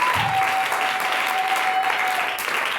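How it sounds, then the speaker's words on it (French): A church congregation applauds the Lord Jesus Christ in steady, dense clapping that holds without a break, loud and filling the room, with a faint sustained tone running underneath. "Acclamez le Seigneur Jésus-Christ."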